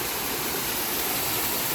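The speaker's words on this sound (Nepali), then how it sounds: "काकरपेत्रियाको झरना।" Kakopetria waterfall rushing, a dense, loud, steady roar of falling water heard close with no talk.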